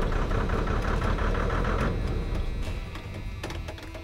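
An abandoned RV's engine cranks and tries to start, giving a loud, steady run of rapid rhythmic churning pulses that weakens and turns rougher toward the end.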